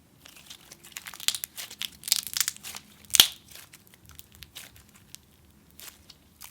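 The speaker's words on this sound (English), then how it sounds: "you get some decent bubble pops that are really satisfying" Store-bought scented slime is squished by hand, giving soft wet crackles and crinkly squelches, with one sharper bubble pop near the middle, quiet and close.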